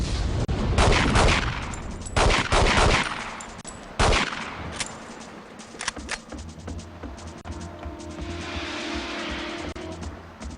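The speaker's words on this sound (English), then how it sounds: "And we'll just fire a rocket back his way." Rocket launches and gunfire in The World Is Not Enough video game, with several loud sharp blasts early on, then quieter scattered shots over a low steady drone.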